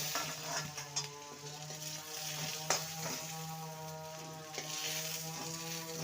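Steamed egg pieces fry in mustard oil in a wok with a steady, continuous sizzle and crackle. A few brief clinks and stirring sounds rise above the hiss, and no one speaks.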